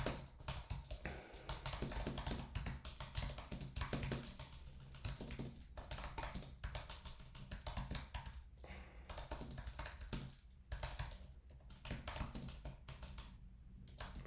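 Computer keyboard typing a prompt, a continuous stream of quick close key taps with brief pauses between bursts, fairly quiet and with no talking.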